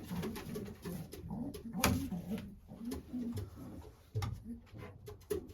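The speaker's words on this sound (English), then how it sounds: "Very nice pigeon." Racing pigeons in a loft coo in low, repeated rumbling phrases, close and moderately loud, with a continuous murmur and occasional soft knocks and flutters in the background.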